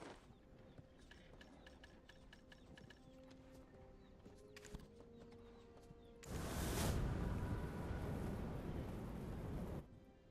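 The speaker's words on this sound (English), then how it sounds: "Please tie the horse over there." Horse hooves clip-clopping in a steady, quiet rhythm in a game setting, with faint movement noise, then a loud broad rushing wash of sound that covers the latter part before cutting off.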